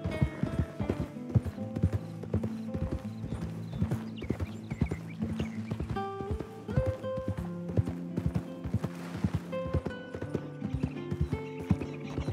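A horse in the Red Dead Redemption 2 game clip-clops along with a steady rhythm of hoof beats while it neighs and whinnies again and again in loud, close bursts.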